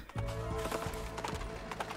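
Hooves clip-clop in a quick rhythm from a horse in the video game Princess Peach: Showtime!, fairly faint against a soft game background with no speech.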